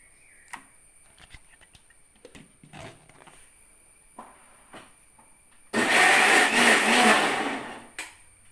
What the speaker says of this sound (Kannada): ಹಲಸಿನ ಹಣ್ಣಿನ ಪಲ್ಪು ಇಷ್ಟು ಸಿಕ್ಕಿದೆ ಹೀಗೆ ಸ್ವಲ್ಪ ತೆಗೆದು ನಾವು ಈಗ ಇದರಲ್ಲಿ ಮಿಕ್ಸಿಯಲ್ಲಿ ಹಾಕುವ